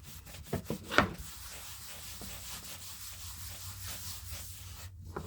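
Paste wax is rubbed by hand onto a wooden checkerboard, giving a soft, continuous scrubbing and rubbing sound, close and fairly quiet, with a few sharper scrapes and taps near the start.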